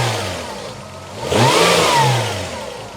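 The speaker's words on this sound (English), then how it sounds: "when you rev the engine you're forcing exhaust into the coolant" A 1996 Toyota Camry estate engine, worn out with exhaust being forced into the coolant, revs up briefly, its pitch rising and falling over a low rumble, then settles back down; close and fairly loud, no talking.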